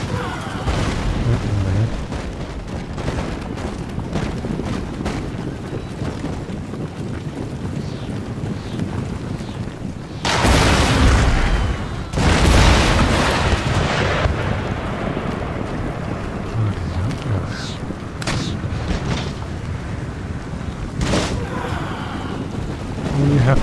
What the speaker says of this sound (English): Bloody guns actually firing